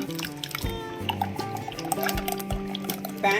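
Thick ground paste thinned with water strained through a sieve while cooking butter chicken, giving close, continuous wet dripping and trickling with small liquid splashes, under faint background music.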